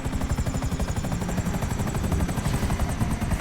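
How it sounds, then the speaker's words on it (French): Helicopter in the video game GTA 5, with a steady, loud rotor chop thumping rapidly and evenly throughout, close and continuous with no talk over it. "Surtout parce que je sais pas trop conduire les hélicos."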